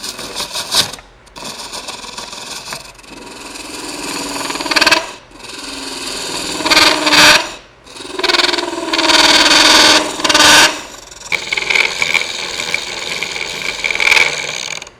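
A woodturning lathe spins a wooden piece while a large round carbide tool cuts it, giving loud whining, scraping bursts of a few seconds each, separated by brief pauses as the tool lifts away.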